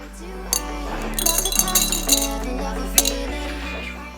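Pebbles drop one by one into a glass honey jar, making a scatter of bright clinks and light rattles close to the microphone over a low steady hum.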